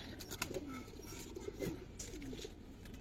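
Long-bodied pigeons give a few quiet, scattered coos, faint and somewhat distant, over a low hum of background noise.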